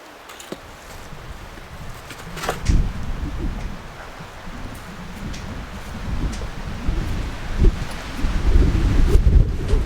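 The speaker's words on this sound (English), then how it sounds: "It is really windy out." Strong gusty wind roars against the microphone outdoors in snow, buffeting in uneven surges that grow louder toward the end, with rustling in the background.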